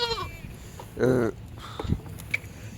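Kathiawadi goats bleat, one loud wavering cry in the middle with shorter calls around it, close by, over faint background noise and shuffling.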